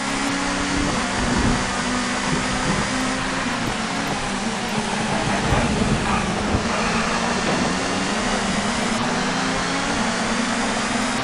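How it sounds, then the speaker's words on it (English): Touring cars race close by in TOCA 2, their engines blending into a dense, steady roar with a loud, continuous mechanical drone and no talking. "Surrounded by cars, I can hear them."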